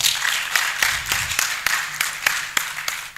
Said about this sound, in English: Now give yourselves to another huge round of applause